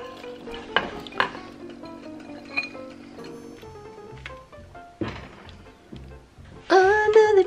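Ingredients for homemade corn chowder drop into a pot and get stirred, with soft thunks, clinks of a utensil against the pot, and scraping stir sounds spread across the scene, ending in a louder clatter.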